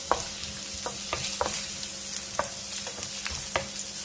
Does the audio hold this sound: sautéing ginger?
yes